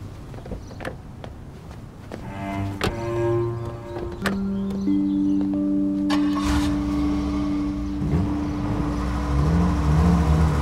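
A car door thunks shut, then the engine rises steadily as the car pulls away and drives off, over a sustained musical score.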